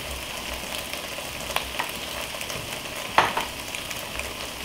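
Potatoes and chile strips fry steadily in a pot on the stove, a continuous soft sizzle with a couple of sharper crackles and a brief stirring clatter near the middle, no voices.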